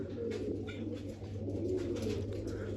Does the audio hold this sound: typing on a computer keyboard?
no